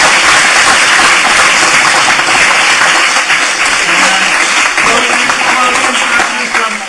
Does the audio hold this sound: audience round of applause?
yes